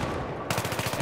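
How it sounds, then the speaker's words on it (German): Rapid automatic gunfire in the video game Battlefield 3, a steady run of loud, evenly spaced shots that starts abruptly halfway through after a brief stretch of dense battle noise. "Den halt direkt vor die Füße schießen."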